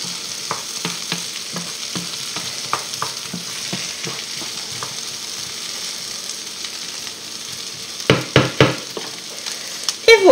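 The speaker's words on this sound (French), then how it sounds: "On remue." Tournedos and sautéed potatoes with parsley stirred in a frying pan: a steady sizzle under repeated scraping strokes of a utensil, ending in a few louder knocks and clatters against the pan.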